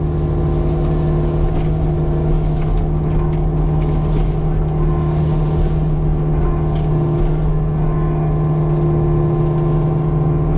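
Forestry mulcher working dirt and bamboo while clearing a small property in Daytona Beach, Florida, its head bogging down; a loud, steady heavy engine drone with a strong low hum runs throughout, close by.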